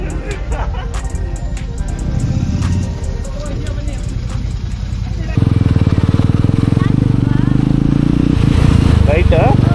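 A Yezdi Roadster motorcycle with its DB killers removed revs loudly and close, its engine roar swelling and growing harsher and steadier partway through, with voices talking over it.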